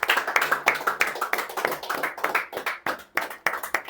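A church congregation claps together in steady, rapid bursts, loud and close, filling the whole stretch with dense applause and no speech over it.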